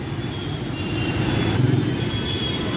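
A metro train near Khairatabad metro station in Hyderabad, a low steady rumble that swells slightly midway, heard from a distance amid outdoor city noise, with no speech.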